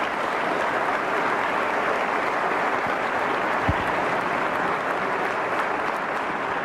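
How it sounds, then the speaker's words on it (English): An audience at the West Virginia State of the State Address applauds in a sustained, dense wash of clapping that stays steady and full for the whole stretch, with no speech over it. "Please give them a round of applause."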